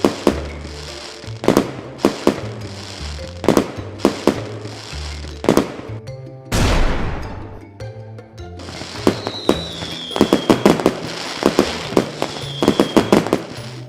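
Firecrackers set off at a Diwali fireworks stall, a rapid series of sharp, loud bangs and crackling pops, some in quick bursts and one longer crackling burst, with faint background noise between blasts.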